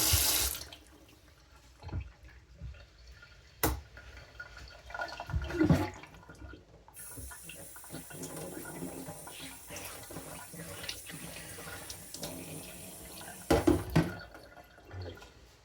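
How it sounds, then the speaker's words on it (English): A sharpening stone for straight razor honing is rinsed under a running tap, water splashing close by in bursts with a steadier flow in the middle and a few knocks, no talking. "Rinse off your stone."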